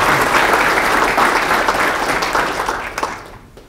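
Audience applause welcoming a speaker to a talk on the dairy industry and global warming, a dense, steady clatter of clapping that fills the room and then thins and fades out over its last second.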